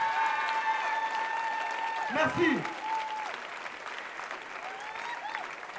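Clapping from the audience at a breakdance battle, a steady patter running throughout beneath a loud swelling tone and a brief spoken word.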